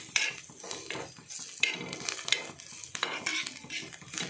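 Grated coconut and onion roasting in a pan, quiet irregular scraping and stirring of a utensil against the pan with faint sizzling, close by and no voices.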